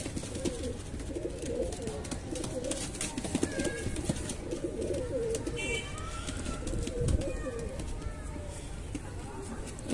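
Pigeons of the Lakhy breed coo in a loft setting, low repeated murmuring calls carrying steadily throughout under continuous background chatter and voices.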